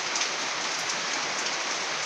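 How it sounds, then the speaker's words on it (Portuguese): Steady rain falling, a dense even hiss of drops on surfaces, moderately loud and constant with no voices. "porque está chovendo"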